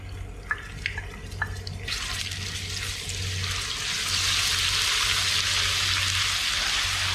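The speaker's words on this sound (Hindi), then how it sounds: "ऑयल गर्म हो चुका है, मैं इसमें अदरक लहसुन का पेस्ट डाल देती हूँ।" Ginger garlic paste drops into a karahi of hot oil for chicken karahi, and after a few faint clicks the oil breaks into a loud, steady hiss that keeps building and fills the rest of the clip without any voices.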